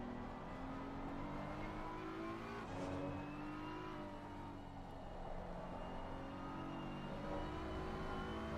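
GT3 race cars, an Aston Martin and a Porsche, circulate Spa in a sim racing game, with engines steadily droning and shifting pitch through gear changes, a continuous close mechanical roar with brief tire squeal and no talk.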